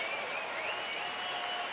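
A stadium crowd at a Cleveland at Texas baseball game breaks into sustained cheering and applause, a dense, distant wash of noise with whistles over it, steady for the short span.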